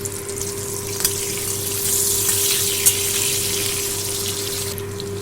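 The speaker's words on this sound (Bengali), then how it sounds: "এবারে লম্বা করে আলুগুলো আমি ভেজে নেব।" Oil hisses steadily in a pan as potatoes fry, with a constant bright crackle and a faint hum beneath, no voices.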